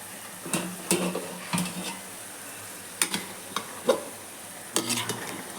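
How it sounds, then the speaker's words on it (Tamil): Chicken biryani rice is stirred gently in a pot, with a ladle scraping and knocking against the metal in separate strokes over a soft background sizzle, close by. "லைட்டாக அப்படி கிண்டி விடணும்"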